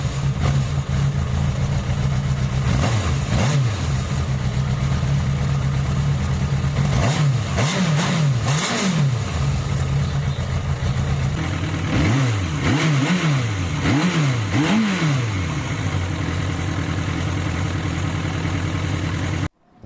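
A Suzuki GSX 750/600 F Katana motorcycle with a repaired exhaust idles steadily, then is revved in several sharp bursts, each rising and falling, with a quick cluster of throttle blips near the end.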